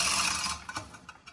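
Rattling mechanical clinks and ratcheting clicks from a chain running through a hoist lowering a tire rack from a storage loft, starting as a steady rush and breaking into irregular taps near the end.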